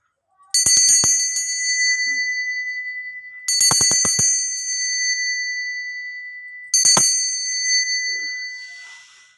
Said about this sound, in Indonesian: Di sini kita akan memulai dengan ditandai lonceng berbunyi.